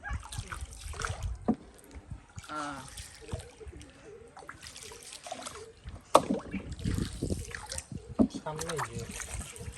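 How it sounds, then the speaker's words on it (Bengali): A small rowboat moves through a canal, with soft paddle splashes and trickling water heard faintly beneath people talking on board. "নৌকা চালাচ্ছে।"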